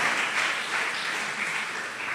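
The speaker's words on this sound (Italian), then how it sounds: "E qua ci dovrebbe stare un altro applauso, in teoria" Steady applause from a crowd, a dense wash of clapping hands that holds at an even level throughout without pause.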